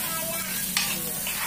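Fried anchovies stirred together with fragrant spices in a hot pan, a steady close sizzle with scraping stir strokes and a brief louder clatter midway, no voices.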